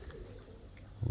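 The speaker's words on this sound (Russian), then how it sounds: "вот голуби начали потихонечку летать" Pigeons coo softly in the background on a windy rooftop, a low murmuring coo with a louder burst at the very end.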